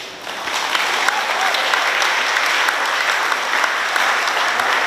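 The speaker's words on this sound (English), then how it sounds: "Let's all give them a round of applause." Steady, loud applause from an expo audience closing a cultural group's presentation, dense continuous clapping throughout with no voices standing out.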